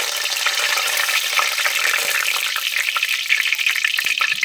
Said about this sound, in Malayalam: എണ്ണ നന്നായിട്ട് ചൂടായിട്ടുണ്ട്. ആദ്യമേ നമുക്ക് കുറച്ച് കറിവേപ്പില ഇട്ട് കൊടുക്കാം.